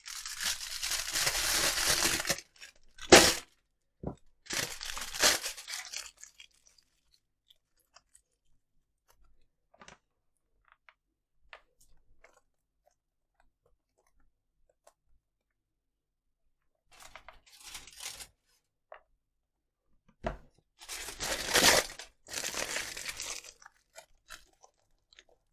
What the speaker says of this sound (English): Put a bit of foil on there.